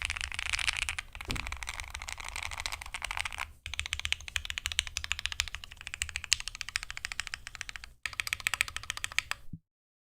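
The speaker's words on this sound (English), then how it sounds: "Do a sound test on a Thera again?" Close, fast typing on a Thera75 mechanical keyboard, a dense stream of crisp key clacks with two brief pauses before it cuts off.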